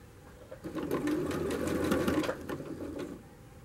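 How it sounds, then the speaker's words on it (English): A sewing machine stitches a tulle skirt in one continuous run, its fast mechanical whirring and rapid needle clatter starting after a brief pause, close and steady before easing off near the end, without speech. "I'm just going to carry on sewing for a little bit longer"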